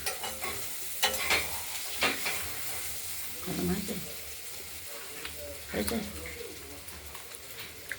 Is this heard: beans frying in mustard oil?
yes